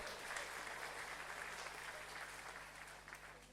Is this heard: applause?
yes